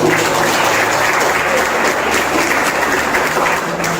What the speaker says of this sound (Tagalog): Isa na pong malakas na palakpak sa atin.